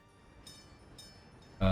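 Train in the video game Workers & Resources: Soviet Republic, a low rolling rumble with faint high metallic squeals, ending in a sudden loud horn-like blast.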